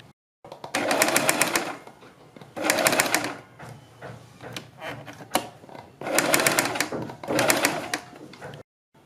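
A sewing machine stitches along the edge of a garment neckline in four short, loud, close bursts of rapid whirring, separated by brief pauses and fabric handling.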